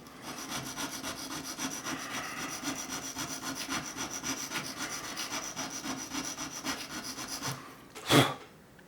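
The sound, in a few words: honing a cheap ruling pen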